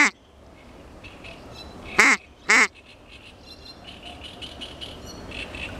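Duck decoy call blown by a hunter searching for mallards, giving a brief sharp quack, then a pair of loud quacks close together over quiet outdoor background, with fainter bird calls after.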